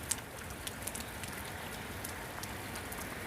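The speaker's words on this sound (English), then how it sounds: "Yes, it's still raining outside." Steady rain falling outside on a Thursday, a soft even hiss with scattered faint drop ticks, fairly quiet and continuous with no talking.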